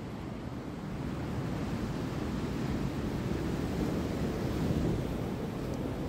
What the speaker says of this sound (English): So here we are. Down St Mary's Beach.